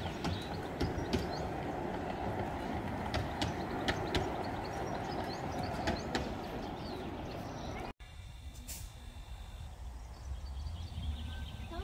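A miniature ride-on train at McLeans Island, Christchurch, rumbles along steadily with rhythmic clacking, a brief break midway, then quieter running with faint voices.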